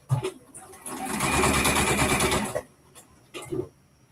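Close sewing machine running a long gathering stitch around a top's cuffs at an increased stitch length, a steady whirring burst of about two seconds, followed by a few short clicks and a brief second spurt.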